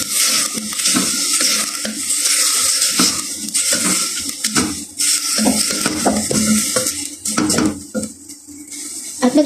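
A utensil scrapes and clatters against a pan while dinuguan with ginger is stirred, with continuous busy metallic scraping and light frying sizzle running throughout at close range.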